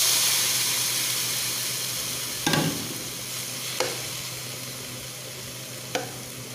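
Tomato and onion fry in a pan for camel gravy, a steady sizzle with a few sharp stirring scrapes breaking through, fairly close and free of talk.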